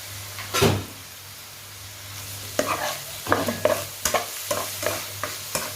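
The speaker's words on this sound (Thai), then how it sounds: "ก็แบบผัดแห้งๆหน่อย" Frog pieces stir-fried with holy basil in a pan, kept fairly dry, with a constant low sizzle beneath repeated close scraping and clattering strokes of a spatula against the pan, one heavy knock near the start.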